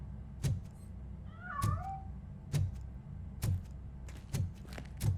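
Cat meows in the video game Robocop: Rogue City, one short plaintive meow amid a steady series of regular heavy thuds, like footsteps, heard fairly close.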